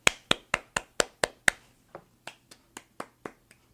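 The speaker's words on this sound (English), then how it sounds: "Show me clapping." Hands clap in a steady, fast run of about sixteen claps, crisp and close up, first louder and then a little softer, with no voices.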